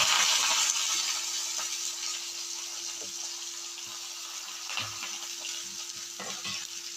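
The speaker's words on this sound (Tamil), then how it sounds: "அடுத்தது வெங்காயமும் கருவேப்பிலை சேர்ந்த மாதிரி போட்டாச்சு." Onions and curry leaves frying with mustard seeds in hot oil, a steady close sizzle with occasional soft stirring knocks, alone without talk.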